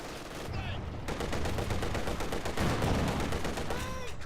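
An MP42 machine gun keeps firing in Company of Heroes 2, rapid dense bursts mixed with other battlefield gunfire and a brief whistling sweep near the end, continuous and fairly loud throughout.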